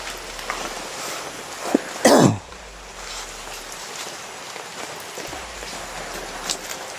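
Steady rain patters all around, a constant outdoor hiss with a brief louder burst near the start, no talking.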